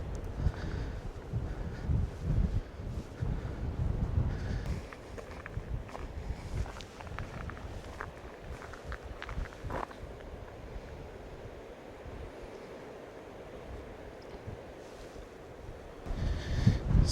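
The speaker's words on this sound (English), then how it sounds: "the wind is strong and kind of cold" Cold, strong wind sweeps outdoors under a clear blue sky, rumbling in gusts across the microphone with soft footsteps, loudest at the start, easing through the middle, and rising again at the end.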